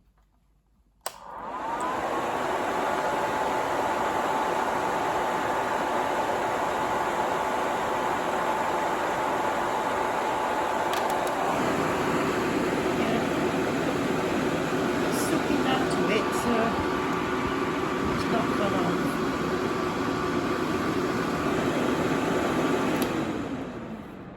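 A budget nail dust extractor switches on with a click and runs as a steady, even fan whoosh with a faint tonal whine, close and constant until it stops at the end.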